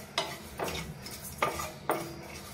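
Sesame, fennel and coriander seeds dry-roasting over low heat in a pan, with four distinct scraping, clinking stirs of a utensil against the pan spaced roughly half a second apart over a soft background.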